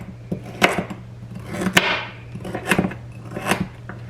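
A knife chops through about half an onion on a cutting board for slow-cooker chicken and rice soup, producing several loud, irregular thuds close by.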